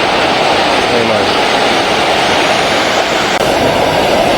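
Maranum Falls in the Philippines pours in a loud, constant roar of rushing water close by, a dense broadband wash that never lets up.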